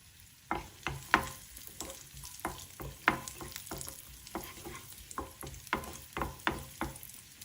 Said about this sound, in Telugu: జీడిపప్పు కొద్దిగా వేగాక దీనిలో కిస్మిస్ని కూడా వేసి వేయించుకోండి.